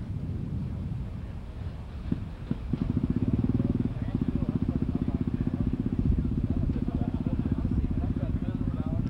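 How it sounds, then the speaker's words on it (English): A 1979 Vespa scooter with a factory sidecar putters at an outdoor motorcycle rally, a low rhythmic engine throb that grows steadier and louder after a couple of seconds, with wind buffeting and voices talking nearby. "This is a 79 Vespa with factory sidecar."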